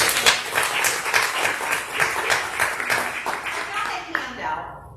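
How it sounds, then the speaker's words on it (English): A small room applauds a speaker at a Rotary Club meeting, with scattered hand claps forming a modest, fairly close round that fades out after about four seconds. Voices mingle with the clapping. "let's go ahead and give her a round of applause"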